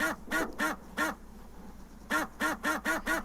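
Geese honk in a video game trailer, in two quick bursts of four or five loud, nasal calls, separated by a short pause with no talk.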